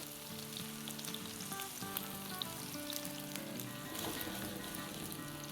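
Malai chicken tikki kababs fry in a pan with a steady, close sizzle and crackle that holds throughout, with faint clinks of a utensil mixed in.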